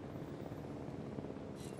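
A helicopter in the Jurassic World Evolution video game whirs as a continuous, dense rotor drone, steady and moderately loud throughout with no voices over it.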